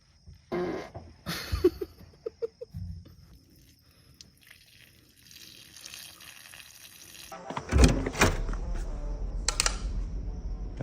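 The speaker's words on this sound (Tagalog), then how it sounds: "Utot ako." Close, wet, sputtering fart bursts come in a quick uneven series, followed by rustling and louder muffled thumps, during a Filipino hide-and-seek challenge.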